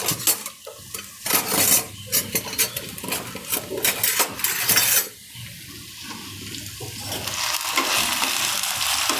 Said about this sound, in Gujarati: બટેકાને આપણે બધા એમાં નાખી દઈશું તરવા માટે એટલે આપણે ફ્રાય કરીએ છીએ અત્યારે